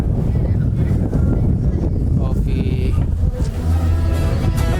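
Strong wind roars steadily into the microphone outdoors at Caliraya Resort Club in Laguna, a loud, constant rumble with a person speaking briefly underneath.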